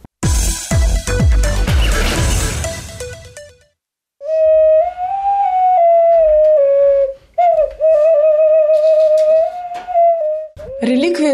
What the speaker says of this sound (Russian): Когда-то предки-славяне придавали глиняным свистулькам магическое значение.